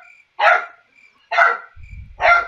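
A ten-week-old puppy barks three times in quick succession, sharp, close and loud, with a brief low rumble of background noise between the last two barks.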